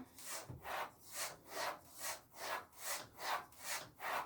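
A straight razor is stropped on a suede strop in slow, even back-and-forth passes, about nine rhythmic rasping strokes heard up close with no voices.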